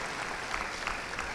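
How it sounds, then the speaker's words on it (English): Steady applause from a crowd cheering the cheer team at a national champion celebration, a dense and even patter of clapping with no voices over it. "Let's give them a round of applause"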